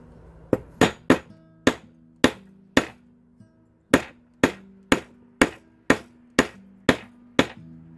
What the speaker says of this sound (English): Hammering this out nice and flat.